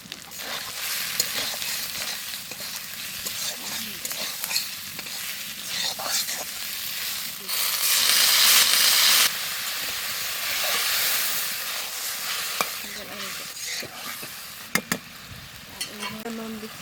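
Ground spices sizzling and frying in a pan for a sea fish masala curry, with steady close hissing and occasional stirring scrapes, and a brief louder surge of sizzle midway.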